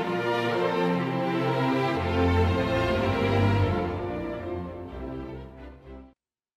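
Sampled orchestral first violins play the opening of Beethoven's Sixth Symphony, first movement, in smooth slow legato, sustained bowed notes swelling and then fading out near the end, with no voices.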